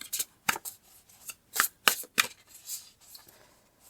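Tarot cards are shuffled and pulled from the deck, a close-up series of crisp riffling and snapping bursts in an uneven rhythm, with no talking.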